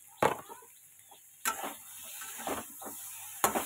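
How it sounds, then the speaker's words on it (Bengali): Food stirred and sautéed in a pan, heard as a few sharp scraping strokes spaced about a second apart over a faint, steady sizzle, close and fairly quiet. "ভালো মতো একটু কষিয়ে নিয়ে"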